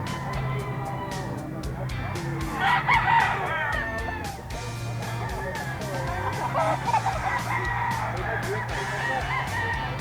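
Roosters crow repeatedly and chickens cluck at a busy fowl market in a grotto in Bulacan, with steady crowd noise and a low hum beneath the calls.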